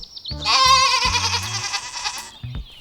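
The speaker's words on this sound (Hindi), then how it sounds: "क्या तुम्हारी बकरी सच में बोलती है?" A goat in an animated cartoon lets out one long, wavering bleat, loud and close, over a light background.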